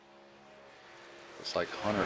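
A race car's engine hums steadily on a fast lap at Daytona in a racing game, a faint sustained drone under a commentator who begins talking near the end.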